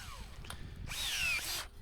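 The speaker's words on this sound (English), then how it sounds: "So, kudos to the old DeWalt 18 volt." An 18-volt DeWalt cordless drill runs in a short whirring burst of about three-quarters of a second, close and moderately loud, between quieter handling noise while a chain link fence is being put up.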